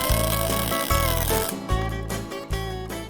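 Arc welder tack welding expanded metal onto a tractor brush guard, giving a loud continuous crackling buzz with regular pulsing surges that start and stop every second or so.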